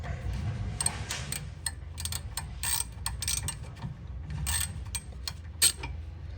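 A ratchet wrench clicks in quick bursts of pawl ratcheting while undoing a bolt that holds a brake line on a 2010 Honda CR-V 4WD during rear wheel assembly work, close and fairly quiet over a low background rumble.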